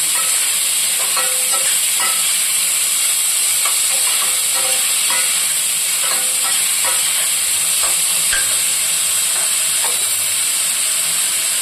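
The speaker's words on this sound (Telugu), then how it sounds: "మనం ఉల్లిపాయ వరకు వేసుకుని వేయించుకోవటమే" Chopped onions, green chillies and turmeric frying in a pan for a chicken curry, a loud steady sizzle and hiss throughout, with light clicks of stirring scattered over it and no voices.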